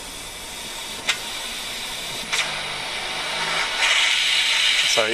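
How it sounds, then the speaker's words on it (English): A torch burns with a steady, broad hiss while it heats platinum on a charcoal block, a close roar that swells louder near the end, with a couple of brief knocks along the way. "you need like quite a hissy flame"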